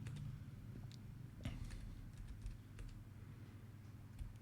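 Typing on a computer keyboard, entering names into design software: soft, irregular key clicks scattered across the whole stretch over a steady low background hum, with no talking.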